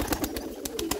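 Pigeons in a loft coo softly and repeatedly in a quiet indoor space, the low rounded calls rising and falling close by, with faint sharp clicks of movement scattered between them.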